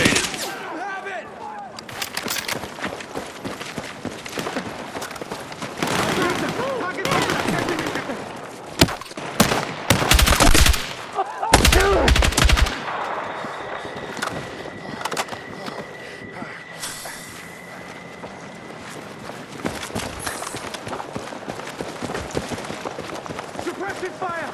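Battlefield 6 combat erupts in bursts of rapid gunfire and heavy blasts, loud and chaotic, with shouted voices mixed among the shots and a lingering tonal hum in quieter stretches.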